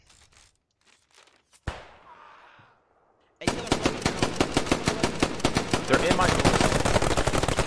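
Gunfire in a Post Scriptum battle, opening with a single sharp shot and a short rattle, then long sustained bursts of rapid automatic fire, close and loud. A voice speaks briefly over the shots.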